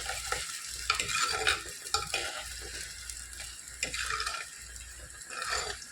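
Onions fry in oil in a clay pot for a fish curry, with a fairly quiet sizzle broken by irregular stirring scrapes and soft clatters, close by and without speech.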